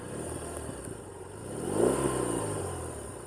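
A BMW R18 Classic's pushrod boxer-twin motorcycle engine idles with a mechanical clatter, then blips up in one short rev that swells and falls away, heard close by.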